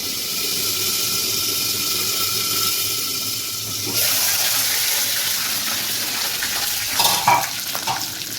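Mustard seeds, cumin and curry leaves sizzle in hot oil in a kadai. A continuous loud crackle swells when more goes in and is broken by a few spatters and stirring scrapes.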